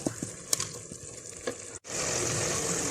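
Minced meat sizzles in a pan during a lobia qeema recipe, a soft crackle with occasional pops, then a brief cut and a louder, steady hiss of frying.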